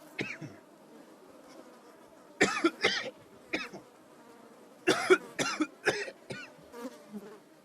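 Raspy coughs come in two clustered bursts over a faint, continuous insect-like buzzing, close and fairly loud.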